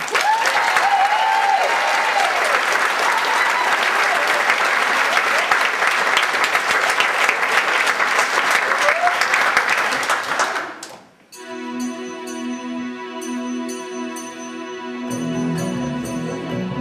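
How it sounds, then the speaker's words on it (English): An audience at a Rock Choir concert in Brentwood and Chelmsford claps loudly and steadily for about eleven seconds, then the applause drops away as music begins. "we give a big round of applause for Andy, please."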